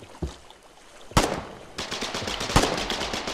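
Gunfire in the war video game Foxhole cracks out in sharp shots, then a rapid burst of automatic fire follows, with no voices.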